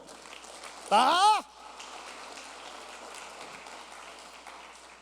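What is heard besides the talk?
applause in church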